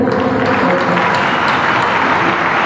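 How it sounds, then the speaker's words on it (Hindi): Loud, dense applause from a large audience at a talk on direct selling, a continuous wash of clapping at steady volume from start to finish. "जोरदार ताली होनी चाहिए"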